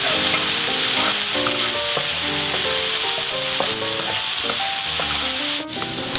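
Thyme and rosemary stirred into a sizzling pork chop stuffing in a pan, with steady frying hiss and spoon scrapes running under prominent background music.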